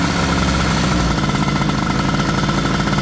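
Motorcycle engine idling while warming up with a cold engine and its idle screw wide open, a loud, steady, close throbbing rumble with no revving.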